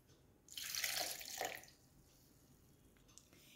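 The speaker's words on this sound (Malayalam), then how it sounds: "നമ്മൾ സോസ് പാനിൽ കാച്ചി വെച്ചിരുന്ന പാലും മുരിങ്ങയിലയും കൂടെ തണുത്തിട്ടുണ്ട്. ഇതിലേക്ക് ഒഴിച്ചു കൊടുക്കാം." Cooled milk and moringa leaves poured into a blender jar: a steady liquid splash and trickle lasting about a second, fairly close, then quiet room tone with a faint clink.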